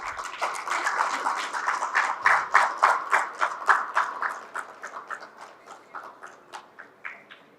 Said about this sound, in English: Let's welcome them with a very warm round of applause